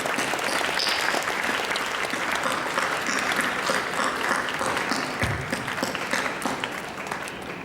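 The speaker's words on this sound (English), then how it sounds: "let's give Astrid a big round of applause" Audience applause at a secondary-school young writers awards ceremony as a student winner comes up to the stage, a loud sustained crowd clapping that holds steady and tapers slightly toward the end.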